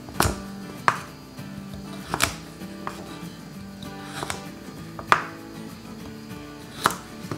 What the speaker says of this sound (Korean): 우엉을 5cm 정도로 잘라주세요.